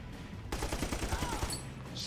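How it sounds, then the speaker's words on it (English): A mounted gun inside a church in the video game Army of Two: The Devil's Cartel fires a rapid burst of booming shots, loud and close, after a short quiet lead-in. "They mounted a gun inside a church!"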